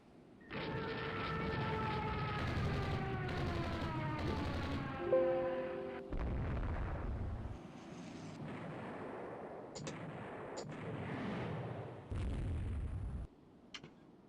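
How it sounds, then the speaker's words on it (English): Missile strike explosions against ships in the naval strategy game Rule the Waves 3, heavy booms and bursts following a tonal, wailing alert, with several separate blasts spread across the clip. "Missile strike."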